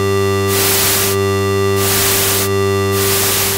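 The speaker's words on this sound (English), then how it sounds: "if we want to use white noise instead" Loud bursts of white noise from a Korg MS-20 analog synthesizer switch on and off in a rough rhythm over a sustained droning tone, with no talking.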